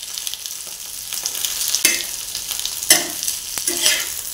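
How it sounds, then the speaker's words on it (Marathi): Okra (bhendi) fries on a small, well-filled pan as it is stirred and turned, giving a steady soft sizzle broken by several sharper scraping stirs, close and alone. "दोन्ही बाजूने आपली चांगली खरपूस अशी भेंडी भाजून घेऊया आपण।"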